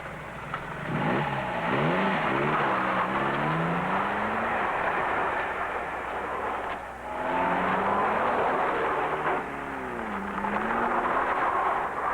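A car running fast laps as a rally driver practises, its engine held high above 3,000 revs and rising and falling in pitch with each gear and curve, loud and close, with no speech.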